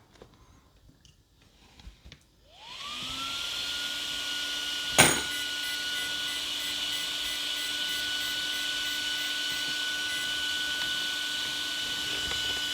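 A nitro or electric RC8X-class RC car revs to full throttle and then reverse, a steady high-pitched motor whine that starts around two seconds in and holds loud and constant, with one sharp click partway through.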